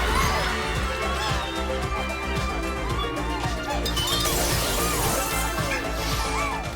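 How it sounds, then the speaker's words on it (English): A glass floor shattering in Astro's Playroom, with loud crashing and breaking effects over energetic game music and sparkling tones, sustained for several seconds. "jump down and break the glass on the floor to find the last piece"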